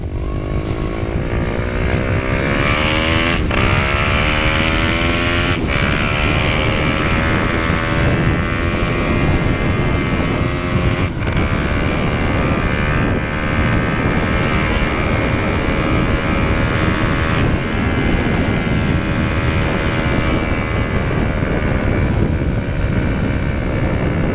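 A 190cc pit bike on 12-inch wheels is held at full throttle, its engine whining loud and steady for the whole stretch with a rising and falling pitch, and no voices are heard.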